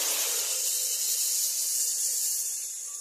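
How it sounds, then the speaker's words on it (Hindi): Masala spices sizzle in hot oil for matar paneer, a steady loud frying hiss that holds evenly for about three seconds and eases slightly at the end, with no voices. "अब मैं इस खौलते हुए तेल में डालूंगा ये मसाला"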